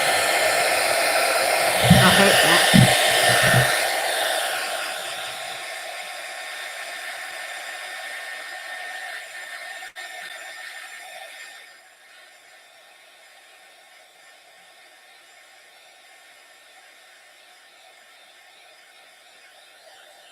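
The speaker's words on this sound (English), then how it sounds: "Can you hear my dryer?" Hair dryer blowing as a steady broadband whoosh, loudest in the first few seconds with a brief voice over it, then quieter and cutting off near the twelve-second mark, leaving near silence.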